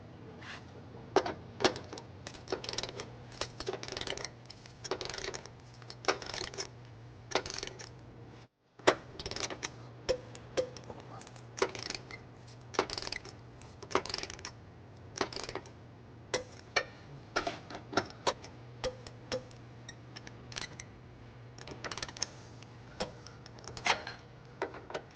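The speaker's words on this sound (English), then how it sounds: "we're going to tighten and torque all of our bolts to the manufacturer specification. We're going to be using a 19mm socket," A ratchet with a 19mm socket on a five-inch extension tightens trailer hitch bolts on a 2017 Infiniti QX60, giving repeated runs of crisp, close clicking in short bursts with brief pauses.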